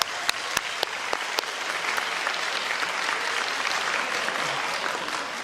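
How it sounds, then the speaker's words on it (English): An audience at a college signing day applauds warmly, a few sharp near claps opening into sustained, even clapping from a sizable crowd. "Let's give them both a round of applause."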